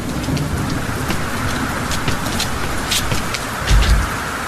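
Heavy rain pours steadily outdoors on a walk beside a highway, a dense continuous hiss with scattered drops spattering close by and a brief low rumble near the end.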